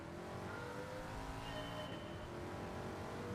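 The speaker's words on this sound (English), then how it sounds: "This car makes a good noise," A race car engine in the video game Gran Turismo 7 roars steadily at high revs, loud and close, with shifting harmonic whine and no voices over it.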